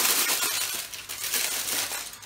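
Aluminium foil is crumpled by hand to form a support for cake decoration, giving a continuous close crackling and crinkling that runs for a couple of seconds with no talking.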